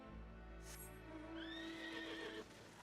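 A horse-like dragon lizard mount in Final Fantasy XIV gives a single drawn-out whinnying neigh that rises and falls over about a second, close and clear above steady game ambience.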